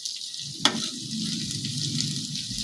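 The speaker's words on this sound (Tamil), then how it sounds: "மட்டன் நல்லா ஃப்ரை ஆயிடுச்சு." Mutton with turmeric, ginger-garlic paste and oil sizzles and crackles steadily in a pan, with one sharp clink of a utensil early on and no voices.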